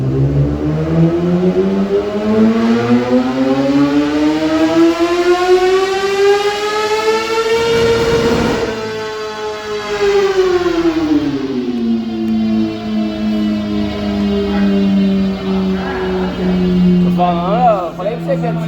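A Kawasaki ZX-10R sportbike screaming on a dynamometer, its engine pitch climbing in a long, loud rev, peaking, dropping and then holding high, with the echo of a workshop around it.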